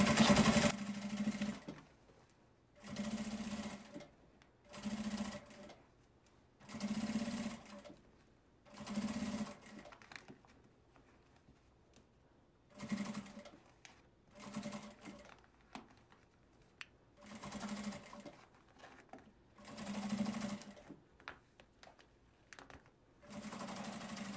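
A sewing machine runs a safety stitch on a fabric case in repeated bursts of about one to two seconds, stopping and starting roughly a dozen times with quiet pauses between runs, close and steady.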